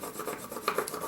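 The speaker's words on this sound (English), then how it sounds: "put your pumpkin on the cardstock, and you burnish it again" A transfer sheet is rubbed down onto cardstock with a burnishing tool, giving a soft, close scratchy rasping in short repeated strokes, quiet and without voices.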